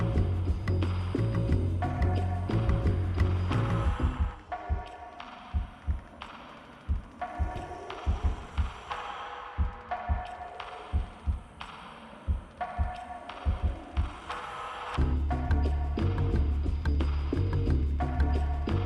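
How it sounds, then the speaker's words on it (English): Heartbeat in a horror game soundtrack piece, a slow run of soft double thumps in the middle section framed by droning, humming music at the start and end. "The sound of a heartbeat?"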